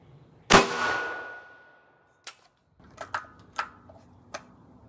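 An 8.6 Blackout rifle fires a Maker 350 REX all-copper bullet into a gel block: one sharp, loud report with a long decaying ring, followed by several smaller clicks and clanks.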